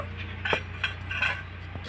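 A lid is lifted off dough left resting for balushahi sweets, producing a few light clinks and knocks spread over under two seconds against a quiet background hum.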